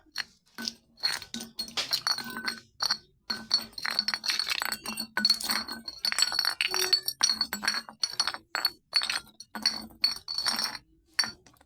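Collected plastic and glass bottles clink and rattle against each other in a quick irregular series of close, bright knocks while being counted.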